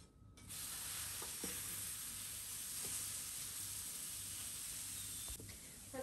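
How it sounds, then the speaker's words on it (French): A buckwheat galette crêpe sizzles in a hot pan with a loud, steady hiss that runs for several seconds. It drops off near the end as the crêpe is flipped with a brief clatter. "au bout de 2 minutes, je viens retourner ma crêpe"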